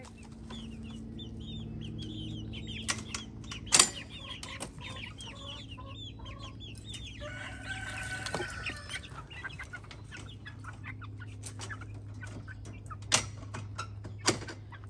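Americana chicks and hens cluck and peep softly throughout, with a few sharp clicks and thumps nearby.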